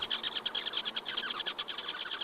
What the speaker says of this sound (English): it is quite amazing for such a little beetle to make such a loud chirping noise